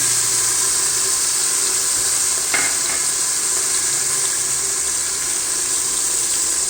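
Green peas tipped into browned onions sizzle in a pan for a tomato rice, giving a steady, close frying hiss with a brief clatter of stirring partway through.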